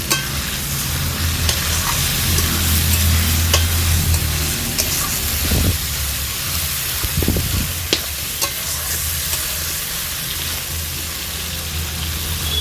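Spoon stirring cumin, onion, chili and ginger pastes frying in a pan, a steady sizzle with a few scraping strokes near the start and a lighter sizzle afterward.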